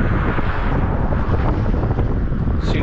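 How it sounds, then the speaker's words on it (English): Wind blows hard across the microphone on a coastal beach at low tide, a loud continuous buffeting rumble with no voices. "It is windy."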